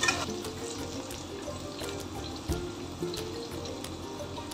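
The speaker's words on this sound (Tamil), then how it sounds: "இந்த ஸ்டேஜில் புளி தண்ணி ஊற்றிக்கணும்." Tamarind water pours into a pot of eggplant biryani side dish, a steady close liquid splash and trickle running throughout with faint sizzling beneath, no voices.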